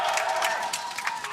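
Fnatic fans in an esports arena crowd cheer loudly during an LEC Spring semifinal between Fnatic and G2, a dense sustained roar with shouts over continuous noise.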